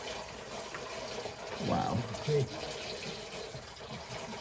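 Antifreeze coolant draining from a Detroit diesel engine crankcase, a steady liquid pour and splash beneath a brief exclaimed voice.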